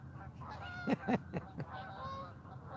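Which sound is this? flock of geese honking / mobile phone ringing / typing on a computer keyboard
flock of geese honking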